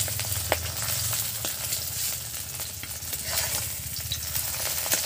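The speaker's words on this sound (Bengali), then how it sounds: "এটা একটা অন্য রকমের ডিম ভাজা" An egg fries in a pan, sizzling steadily while a utensil stirs and scrapes now and then, close and fairly quiet with no talk.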